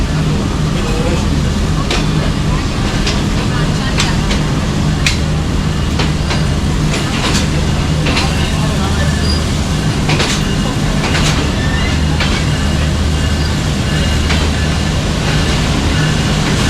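A Sir Syed Express passenger train of 16 coaches heading toward Karachi rolls steadily with a constant low rumble and a faint rhythmic clatter of the wheels. Brief clicks and knocks recur throughout, and there is no speech.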